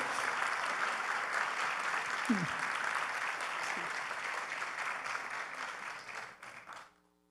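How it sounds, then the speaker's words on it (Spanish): Steady audience applause at a cultural festival, sustained crowd clapping at moderate level that carries on evenly before fading out abruptly near the end, with a brief low voice mid-way. "Gracias, es un aplauso"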